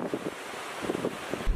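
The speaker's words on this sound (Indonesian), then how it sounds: "Ombak besar yang sampai pantai terus menggerus daratan." Big Indian Ocean waves surge onto an eroding beach at Tanjung Sakti, Pesisir Barat, a rough continuous wash of surf with wind buffeting the microphone.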